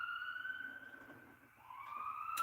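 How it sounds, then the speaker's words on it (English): Police car or ambulance siren wailing in a steady rising and falling tone at mid distance, dipping briefly before swelling again, with no talk over it. "Is that the cops or is that an ambulance?"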